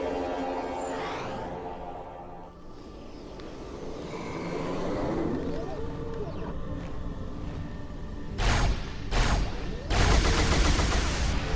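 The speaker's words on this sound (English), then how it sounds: "Just firing 2-round bursts there" Gunfire from a weapon in Halo 2 fired in short two-round bursts, loud sharp cracks late in the clip after a stretch of mixed game ambience and rumble.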